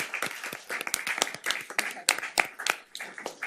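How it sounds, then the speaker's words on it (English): Audience applause in a city council chamber, a steady patter of many hands clapping at moderate loudness for several seconds, with faint voices underneath. "Round of applause."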